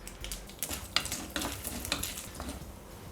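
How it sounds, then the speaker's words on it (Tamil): Mustard seeds spluttering in hot oil during tempering for a South Indian poha dish, with quick irregular pops and crackles over a steady sizzle, close and moderately quiet, with no talk. "கடுகு வெடிக்கிறது."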